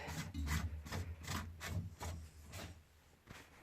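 Rhythmic plastic rubbing and rasping as the plastic lid of an Adey MagnaClean heating filter is unscrewed by hand, several short twisting scrapes close by, fading toward the end.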